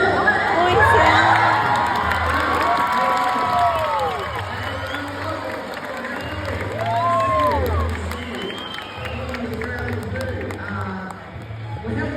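Spectators applauding and cheering for Murray the crocodile at a crocodile show in the Colosseum, loud sustained shouting and whooping with children's voices and scattered clapping throughout.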